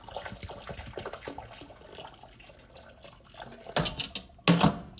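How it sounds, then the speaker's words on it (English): Two cups of hot water poured into a bowl of sugar in a home kitchen, a soft running trickle with faint splashing and a couple of louder bursts near the end. "Then I'm gonna add 2 cups of hot water."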